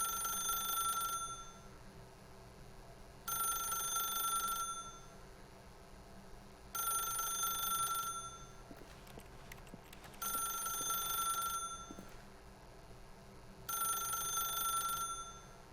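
A telephone rings repeatedly in The Stanley Parable, five bright trilling bursts of about a second and a half each, evenly spaced with quiet gaps between them, plus a faint rustle in the middle and no talk.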